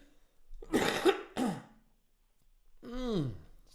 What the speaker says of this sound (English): Just gonna mute the microphone while I cough like crazy.